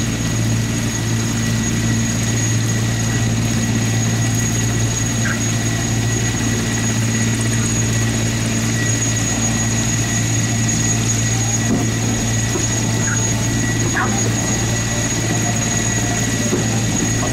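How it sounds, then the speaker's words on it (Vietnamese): A formation of Vietnam People's Air Force helicopters flies over an anniversary display, giving a loud, unbroken rotor and engine drone that holds steady throughout. "chúng ta được chứng kiến một số lượng trực thăng đông đảo như thế này của không quân nhân dân Việt Nam"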